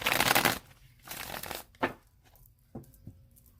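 Tarot cards shuffled by hand in several bursts: a long riffling rush, then shorter shuffles and a few crisp snaps, close and fairly quiet, with no talking.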